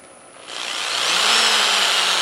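A power drill at about half trigger whirs steadily with broadband abrasive hiss as sandpaper works a wooden bowl, rising at the start and then holding a constant, close, loud grind.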